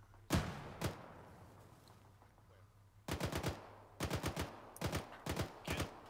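Gunfire in the military shooter Arma 3: two sharp shots, a short lull, then rapid bursts of automatic fire in quick clusters, loud and close.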